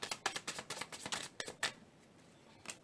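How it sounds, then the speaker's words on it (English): Tarot cards shuffled up close in quick riffling bursts for under two seconds, then near silence broken by a single soft tap. "All right, last shuffle."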